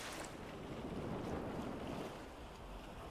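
Waves wash steadily around a sailing ship on the open sea in the video game Sea of Thieves, with wind rushing past in a constant, close wash of noise and no voices.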